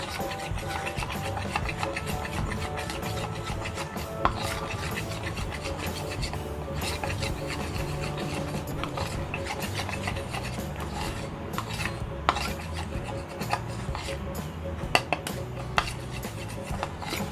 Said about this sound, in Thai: เราคนผสมแป้งตัวนี้ให้ละลายก่อน อย่าให้แป้งเป็นเม็ดนะคะ